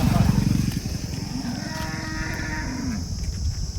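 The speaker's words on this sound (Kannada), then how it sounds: "ಇವತ್ತು ಒಂದು 30-35 ಹಸು ಇದ್ದಾವೆ" Cattle low and moo at a livestock market selling HF, Jersey and Malnad Gidda cows, with a deep call up front and more mooing through the clip over steady background noise.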